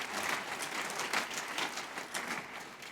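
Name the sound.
audience applause for the Max Planck Society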